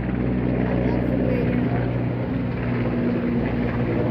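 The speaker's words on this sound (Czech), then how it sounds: "Do toho tady nad náma lítají helikoptéry" Helicopters fly overhead, producing a steady, loud, droning rotor hum that fills the whole stretch without letting up.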